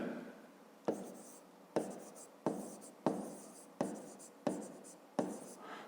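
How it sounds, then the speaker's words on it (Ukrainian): A pen writes on paper while working a fifth-grade math exercise, giving a close series of about seven quick scratchy strokes in a steady rhythm with brief pauses between them. "Так і записуємо."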